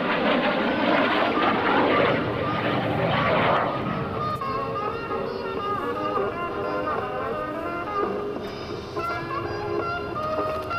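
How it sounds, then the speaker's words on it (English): An F-14 jet roars overhead at an air force base open house air show, a loud broad rumble that shifts and thins partway through while a public-address voice carries over it. "The highest time F-14 pilot in the country right there, Miss Dale Snort Snodgrass at controls."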